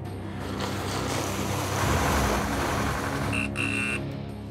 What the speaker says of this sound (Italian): Accendo i motori! Azioniamo tutto l'impianto, facciamo scorrere!